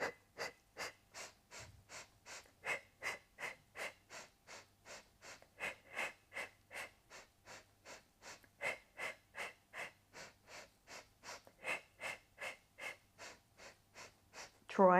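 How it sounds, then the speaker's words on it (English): Steady rhythmic breathing during a Pilates pelvic floor exercise, with some thirty soft, close breaths evenly paced and repeated without pause, faint and alone. "And breathe."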